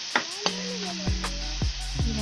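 Pork sautéed with tomato and shrimp paste in a pan, a spatula striking the metal in several ringing clanks over a steady background sizzle.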